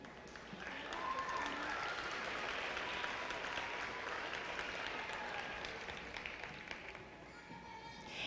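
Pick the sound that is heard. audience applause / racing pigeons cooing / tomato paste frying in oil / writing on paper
audience applause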